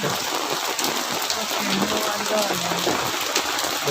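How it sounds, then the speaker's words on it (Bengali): Heavy rain pours onto a street in Paris, France, a dense, steady roar of falling water with constant splashing and no pauses, close and loud throughout. "প্রচণ্ড পরিমাণে বৃষ্টি হয়েছে"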